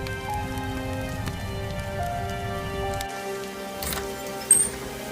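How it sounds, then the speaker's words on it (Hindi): Heavy rain at night pours steadily in a cartoon story, a dense continuous hiss of falling water with a soft knock near the end and no talk. "इतनी तेज बारिश में इतनी रात को कौन दरवाजा बजा रहा है?"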